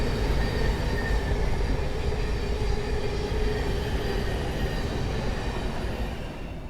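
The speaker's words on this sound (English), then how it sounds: "we get a train go by." A train passes close by, a loud continuous rumble of rolling wagons with a faint metallic whine above it, steady throughout and easing slightly toward the end.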